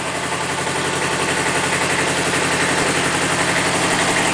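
Kubota B7000 compact tractor diesel engine idles loud and close, turning a hydraulic pump with a steady, even rumble and fast mechanical pulsing that holds without a break.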